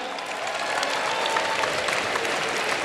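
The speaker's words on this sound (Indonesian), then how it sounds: "Tepuk tangan dulu nih buat dia" A hall full of university students at an orientation lecture applauds steadily, a dense, even wash of clapping that carries on without a break.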